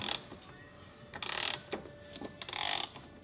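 A half-inch drive ratchet works on the rear suspension bolts of a Subaru Impreza Hawkeye, giving a few short, faint clicking bursts spaced apart with quiet gaps between.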